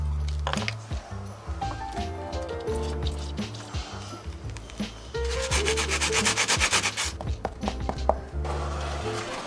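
Fiberglass and epoxy resin filler on a camper van's body being sanded, with steady, close scratchy rubbing strokes that grow denser and more rapid toward the end, heard alone without talk.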